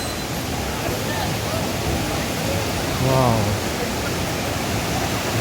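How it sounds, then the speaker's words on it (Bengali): A waterfall with cold rushing water near Guwahati, a constant broad roar of falling water heard close by, with a short exclamation from a voice over it midway. "ওখানে ঝর্ণা ছিল, জানি না জলটা কোথার থেকে আসছে, বাট খুবই সুন্দর ঝর্ণা ছিল, খুবই সুন্দর একটা সাউন্ড আর খুবই ঠান্ডা জল।"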